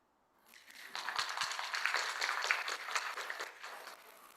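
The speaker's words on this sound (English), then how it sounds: "When everybody gets right, we clap." Audience applause at a linguistics conference session, fading in after half a second and holding as steady, dense clapping from a roomful of listeners before tapering off near the end.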